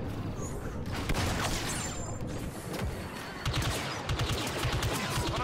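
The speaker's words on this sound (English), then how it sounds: "I gotta shoot the guy three times" Rapid blaster gunfire in Star Wars Battlefront 2 crackles in quick volleys throughout, sharp and fairly close, with bursts thickening toward the end and a voice occasionally talking over the shooting.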